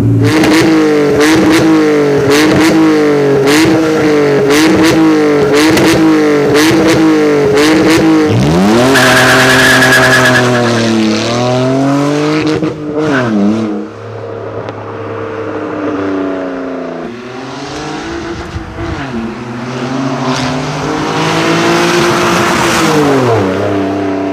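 A 600 hp drift car revs hard in rhythmic bursts, then accelerates with a rising engine howl and skidding tires, loud and close, the engine note dipping and climbing again with no talk.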